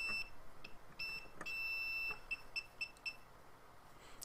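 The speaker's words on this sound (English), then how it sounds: "you'll see that it beeps when we connect it here" Continuity tester beeping while probing the wiring of a Yihua 862D+ soldering station, a series of short, faint high-pitched beeps at irregular intervals, one held a bit longer, with light handling noise between them.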